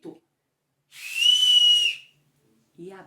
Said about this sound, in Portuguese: as crianças assopravam um apito